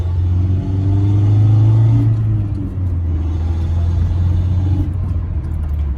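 A cheap Ford Ranger pickup engine drones loud and close from inside the cab as the driver shifts into second gear, a heavy steady low rumble that rises slightly in pitch and then settles.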